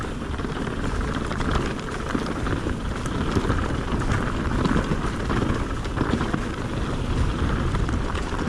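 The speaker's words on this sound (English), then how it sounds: "Feel a few spots of rain now" A steady, even hiss of light rain falling outdoors in the Welsh countryside, constant throughout with no voices.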